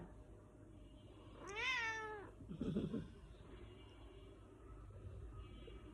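A cat gives a single clear, rising-and-falling meow, followed by a short low chirping call, close by against a quiet indoor background.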